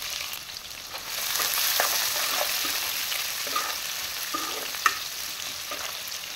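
Green chilies and onions hit hot oil already crackling with cumin and mustard seeds, giving a steady close sizzle with occasional stirring scrapes and one sharp clink near the end; no voices.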